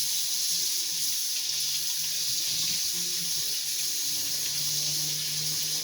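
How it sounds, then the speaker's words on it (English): A hard stream of hot water pours from a kitchen tap over fruit, a steady, close hiss and splash that runs unbroken without speech. "A nice hard stream of hot water"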